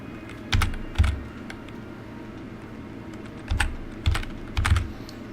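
Clacks from a sticking computer keyboard, struck in short clustered bursts separated by pauses, close and fairly loud with no voice over them.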